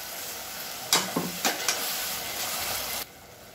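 Tomatoes fry in a pan for sambar rice. A soft, steady sizzle runs throughout, and a few sharp stirring scrapes and clatters fall in the middle before the sizzle drops quieter near the end.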